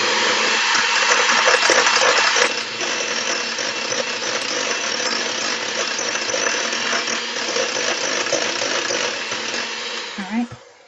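An electric mixer whirs steadily through cake batter, a loud continuous motor hum that dips slightly after a couple of seconds and cuts off near the end.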